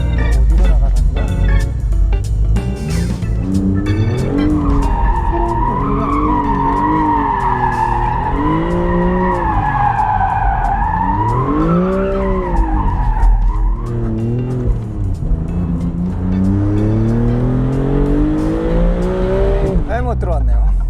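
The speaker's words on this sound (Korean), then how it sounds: "블로우밸브가 슉슉거리면서 압력을 빼는 그 모든 소리들을 그냥 적나라하게 다 들려줘요" A Maserati sports car engine revs loudly from the driver's seat, with the blow-off valve hissing as it vents pressure and tires squealing, pitch rising and falling over about twenty seconds while a voice talks intermittently.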